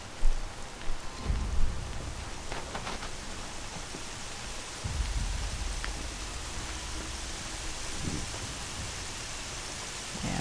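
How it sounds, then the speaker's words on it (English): Steady rain falls in a video game, a continuous close hiss of downpour with a few low rumbling thuds early on and no talk over it. "Yeah, a lot of rain."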